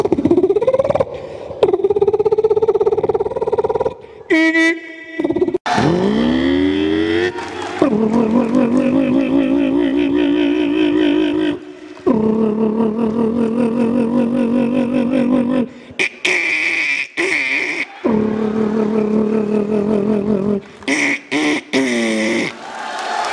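A man vocally imitates an Indian Bajaj motorcycle starting, producing loud, sustained, engine-like drones and rising revs broken by short gaps and sharp bursts, with crowd noise faintly present.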